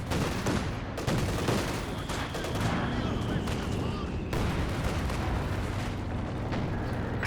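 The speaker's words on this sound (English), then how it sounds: "Got the heavy mortar trying to get rid of that bunker" Heavy mortar shelling a bunker in the war strategy game Company of Heroes 2, set against dense battlefield noise. Sharp impacts and gunfire-like cracks crowd a steady roar, with a loud burst near the start and another a few seconds in.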